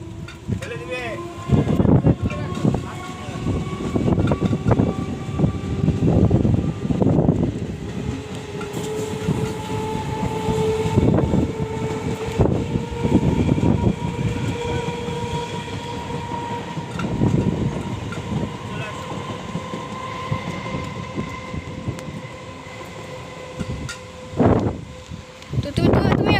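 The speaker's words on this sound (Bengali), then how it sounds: "ট্রেনটা যাচ্ছে, দেখাও সবাইকে দূর থেকে" Distant train rolling past during Cyclone Remal near Baruipur, Kolkata, a steady rumbling rail clatter with a sustained horn-like tone, heard under gusting wind and occasional voices throughout.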